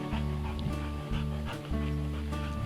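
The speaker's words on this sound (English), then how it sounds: "The old dog pants up next to me." An old dog pants close by on a Devon green lane in the countryside, with steady, rapid breaths running through the whole stretch alone.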